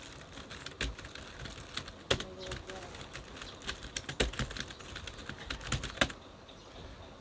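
Keystrokes on a computer keyboard while entering text in Microsoft Word, a steady run of quick, close clicks in uneven bursts with a few heavier taps, and faint voice murmur underneath.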